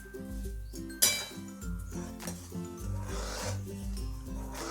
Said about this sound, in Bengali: অনবরত খুন্তি কিন্তু নাড়তে হবে, নাহলে গুড়টা তলে বসে যাবে